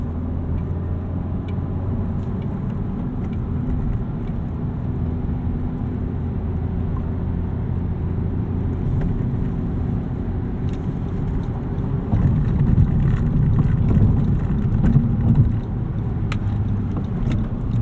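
A 2017 Honda Civic Si fitted with an Acuity Instruments shifter, driven on the road: a steady, close engine and road rumble that swells briefly partway through, with no talking.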